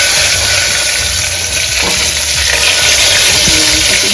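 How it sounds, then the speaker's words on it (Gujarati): Loud, steady sizzling of stuffed eggplants and potatoes deep-frying in hot oil, a continuous crackling hiss with no voices. "આ બધું તળાઈ જાય અંદર ને અંદર તેલમાં"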